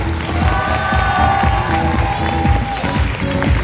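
An audience at a corporate launch event in Bordeaux claps and cheers loudly and continuously, a dense wall of applause and shouting from a crowd on its feet.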